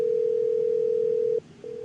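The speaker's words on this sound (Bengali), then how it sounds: "একবার অভিকে ফোনটা করে দেখি।" A telephone line tone sounds as a steady, loud, unbroken hum as a call is placed. It cuts off briefly, then resumes more faintly, with no talk.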